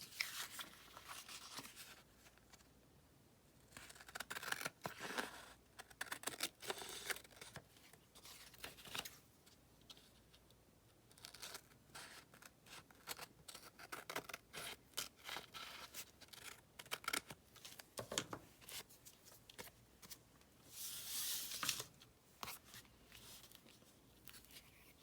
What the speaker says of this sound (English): Let's get our scissors, get some trimming going here.